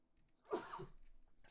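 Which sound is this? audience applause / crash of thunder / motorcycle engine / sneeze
sneeze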